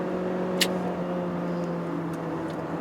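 A 1.5-litre Mazda 3 hatchback on a mountain road gives a steady, moderately loud engine drone and tire hum with little change in pitch.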